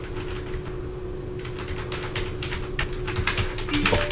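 Keys clatter on an AULA gaming keyboard with LED backlighting, a run of quick irregular clicks that grows busier and slightly louder toward the end, close by over a steady low electrical hum.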